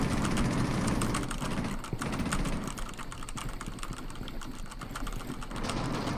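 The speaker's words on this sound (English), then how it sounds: "So now let's do some keyboard clicks, and you guys can listen to how loud the keyboard sounds." Keyboard clicks typed on a computer keyboard, captured by a budget Blue Snowball USB microphone, form a steady stream of rapid clacks close to the mic over a constant background hiss, with no talking.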